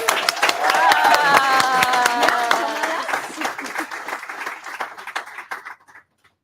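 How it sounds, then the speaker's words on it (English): Audience at an International Women's Day event applauding a speaker: a crowd claps steadily for several seconds, with voices talking over it, before the clapping thins out and fades. "Let's give her a round of applause."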